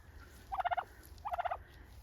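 A turkey in a chicken garden gobbles twice in quick rattling bursts about three quarters of a second apart, heard from a moderate distance over faint background noise.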